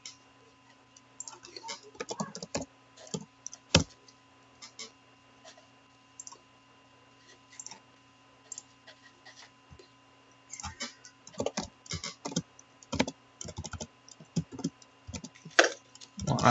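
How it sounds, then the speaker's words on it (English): Sparse, irregular clicks of keys tapped on a computer keyboard set to a Spanish layout, single presses and short bursts separated by pauses against a faint steady hum. "I'm trying to press numbers and they're not giving me my numbers."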